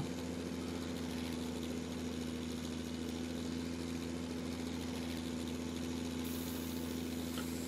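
A steady mid-pitched tractor engine pulling a straw baler in Farming Simulator 17 drones on without letup, a constant mechanical hum with a faint tonal whine and no talking.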